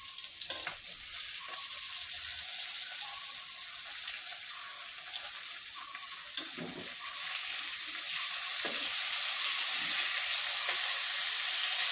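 Fish frying in a hot pan gives a steady, bright sizzling hiss with occasional pops and crackles, heard up close and alone for the full length, growing slightly louder toward the end.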